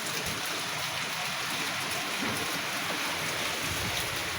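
Strong typhoon wind roars in a constant broadband rush with no pauses, loud and close, without talk.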